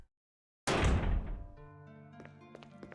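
A heavy metallic thunk from a rusted door that won't open in a Resident Evil game, one sudden loud impact after silence, followed by a ringing, decaying metallic resonance and faint rattles.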